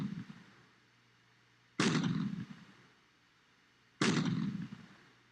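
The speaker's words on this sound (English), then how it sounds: "I could also just hit artillery on the north wall and just fire" Two loud artillery volleys fired from the north wall in The Alamo strategy game, each a sharp booming blast that rolls off into a long decaying rumble, spaced about two seconds apart with no talk.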